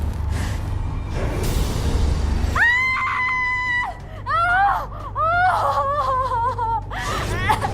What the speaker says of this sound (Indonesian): Kenapa sih teriak-teriak?